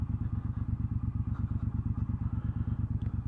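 A 2018 Triumph Bobber 1200 motorcycle engine chugs at low revs on a wet day, a close, even, pulsing thump repeating throughout with no talk.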